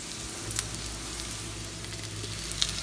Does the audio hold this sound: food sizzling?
yes